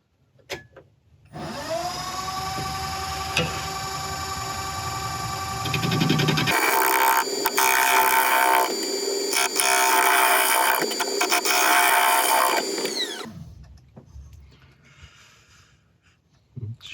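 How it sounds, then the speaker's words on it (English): A wood lathe runs steadily while a normal scraper cuts a wood and resin inlay turning, giving a loud continuous whine that turns rougher and harsher partway through, then the motor winds down near the end. "Just going to use a normal scraper"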